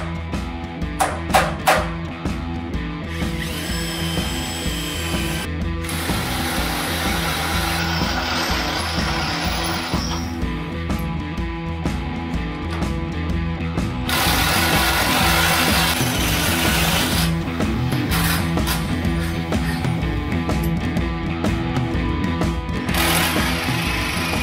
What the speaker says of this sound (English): All I got to do is drill them out and we'll put the bolts to it.